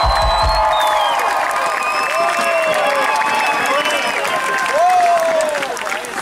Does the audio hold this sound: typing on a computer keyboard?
no